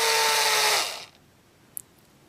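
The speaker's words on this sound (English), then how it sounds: "drill a pilot hole for a start" Power drill boring a pilot hole in an RC aircraft drop tank part, a steady loud whine that winds down and stops after about a second, followed by quiet and a small click.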